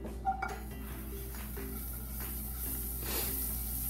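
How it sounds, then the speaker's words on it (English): Butter going into a pan for a caramel sauce, a soft clink of cookware at the start followed by a steady low sizzle and hiss that continues throughout. "So I'm gonna add my butter."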